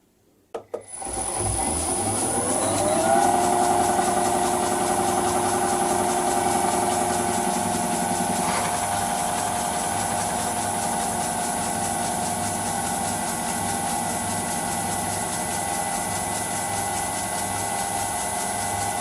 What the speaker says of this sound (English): Let's fire up the motor